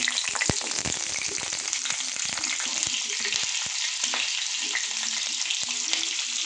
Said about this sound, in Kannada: ಸೊ ಮೊದಲ ಮೆಣಸಿಗೆ ಹಾಕೋಣ.